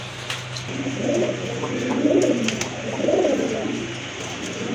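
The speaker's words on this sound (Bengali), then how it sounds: "আরেক জোড়া কবুতর এটা কিন্তু ছিলা কবুতর খুবই চমৎকার" Pigeons coo in a slow series of soft, throaty rolls, three or four rounds repeating close by at a pigeon market, over a low steady hum.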